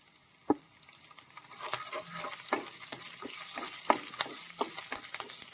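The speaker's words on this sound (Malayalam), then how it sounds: "ഇപ്പൊ നമ്മുടെ ഇഞ്ചിയും പച്ചമുളകും എല്ലാം കൂടി നന്നായിട്ട് ഒന്ന് എണ്ണയിൽ കിടന്ന് മൂത്ത് വരുമ്പോഴേക്കുമാണ്" Ginger and green chillies fry in oil in a pan, with a sharp spoon knock early, then a rising sizzle punctuated by repeated stirring scrapes and taps, close and moderately loud.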